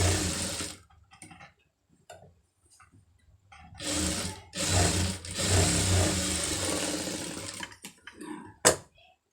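Sewing machine stitching a second line of thread, a few short bursts at first, then a longer sustained run before stopping with a final thump.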